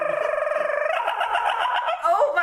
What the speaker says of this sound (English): All these birds start flying.